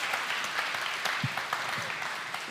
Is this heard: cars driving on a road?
no